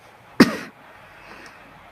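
A man coughs and clears his throat once over a call line, a single short, sharp burst followed by faint line noise and quiet.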